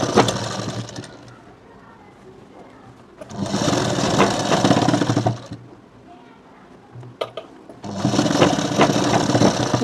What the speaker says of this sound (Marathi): इथं 1 इंची सिलाई मारून घ्यायची फिनिशिंगवाली.